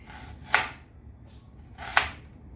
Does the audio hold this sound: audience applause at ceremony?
no